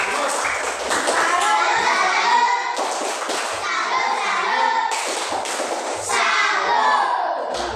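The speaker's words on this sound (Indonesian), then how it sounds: "Tepuk tangan dulu untuk kelompok 4 ini." A classroom of children claps for a student group, bursts of rhythmic hand-clapping mixed with thumps and excited kids' voices, loud and close, rising and falling in several waves.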